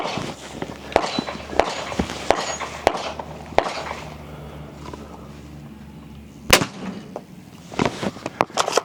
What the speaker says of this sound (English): I'm gonna shoot this one without my ears because I have a suppressor.